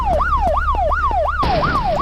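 Police car siren in the video game Indian Theft Auto, a loud rising-and-falling wail repeating about every half second, with a harsher engine or noise layer joining partway through.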